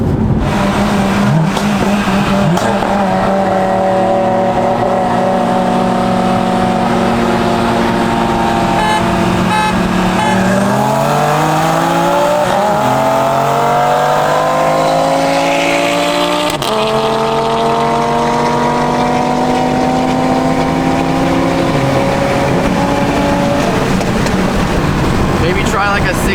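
A stage 2 Audi RS3 roars under hard acceleration, its engine pitch climbing through the revs, dropping at a shift and climbing again, loud and close from inside the car with talk over the top.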